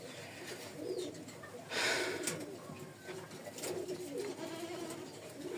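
Fancy Indian lakkha pigeons with large tails coo in a busy loft, soft repeated calls rising from a steady background of bird noise, with one louder burst of wing or cage clatter; no one speaks.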